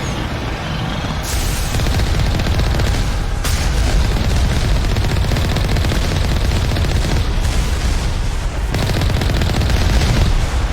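Enemy turrets fire in the video game Mass Effect, producing loud, dense, continuous bursts of gunfire and booming blasts with sharp shifts in intensity throughout.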